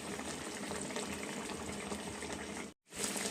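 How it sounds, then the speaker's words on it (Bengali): Til katla, a Bengali fish curry of katla fish with sesame and green chillies, bubbling in a pot: a continuous soft simmering burble with a momentary break near the end, no talk. "এখন কিছুটা সময় ফুটিয়ে নেব"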